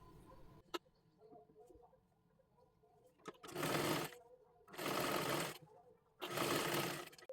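A home sewing machine runs three times, stitching along the folded edge of a fancy dress made from a Kathpadar saree, each burst a steady whirring run of a second or so separated by short pauses.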